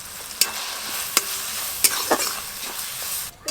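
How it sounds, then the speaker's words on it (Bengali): Tempered spices sizzling in a hot pan as bottle gourd leaf paste goes in, a soft steady fizz broken by a few sharp clinks and scrapes of stirring, with no talk. "ফোড়ন হয়ে গেছে, এবার লাউ পাতা বাটা দিয়ে দেব।"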